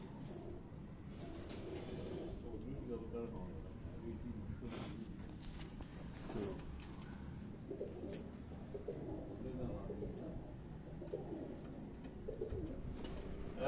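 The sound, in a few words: flying pigeons cooing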